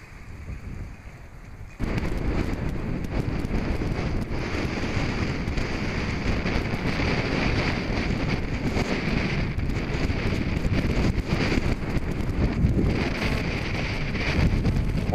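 Strong wind at the port of Cap Lévis on the Normandy coast roars in a dense, continuous rush against the microphone, loud and unbroken after a quieter opening second, with no talking.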